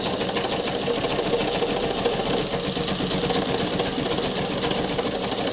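A vintage Kingston Precision Synchro-Matic sewing machine runs steadily at heavy pressure and long stitch length, a dense continuous mechanical whir with rapid needle clatter, loud and close, with no voices.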